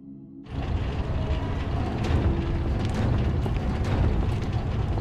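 Deep, rumbling game explosions in Resident Evil 2 hit abruptly and then roll on as a loud, sustained, debris-filled roar, with crackles and small bursts scattered through it and no talking.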